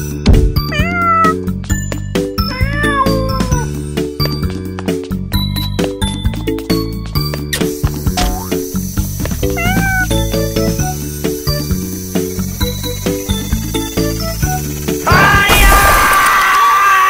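A cat meows repeatedly in short, rising and falling cries, loud and close, with brief jingling clatter between calls and a noisy crash near the end.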